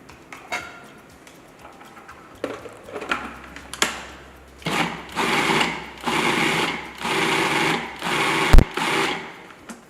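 A food processor pulses chopped onions, mushrooms and celery with barbecue sauce, ketchup and Worcestershire: after a few soft knocks, about five short, loud whirring bursts come in a quick rhythm, ending on a sharp clunk.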